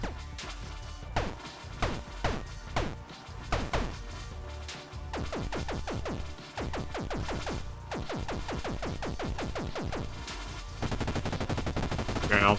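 Submachine gun from a zombies video game firing in separate punchy bursts, then in sustained rapid automatic fire, loud and close, with a dense backing track beneath and no talk.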